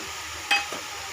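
Chunky onion pieces and asafoetida frying in a pan for a spiced taro gravy: a steady hiss of sizzling with one sharp clink of a utensil midway and a softer stir after.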